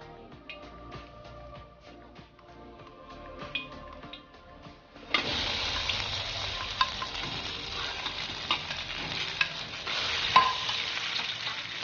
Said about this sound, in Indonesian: Kalau sudah panas, bumbu yang kita haluskan tadi kita masukkan